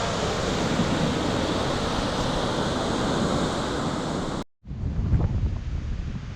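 A wild, flooded river rushes in a steady, loud roar of broadband water noise with wind buffeting the microphone, cutting out briefly before resuming.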